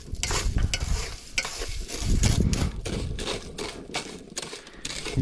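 Eggshells stirred constantly in a large hot pan over two burners give a dry rattling, crackling scrape in quick repeated strokes, loud and close, with no voices.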